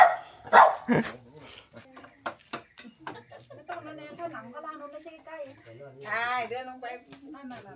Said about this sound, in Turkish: Köpek de beni ısıracak az kaldı.